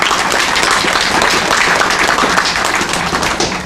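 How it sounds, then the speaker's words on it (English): Dense, sustained applause from an audience at the opening of a renovated library branch in New Carrollton, steady and loud throughout with no pause. "Can we give them another round of applause?"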